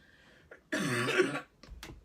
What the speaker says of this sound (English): I'm full of coughs tonight.